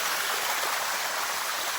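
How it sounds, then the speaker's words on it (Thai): Bua Tong sticky waterfall in Chiang Mai, a dense, steady rush of falling water heard close and loud for a short stretch, with no voices. "Sticky waterfall"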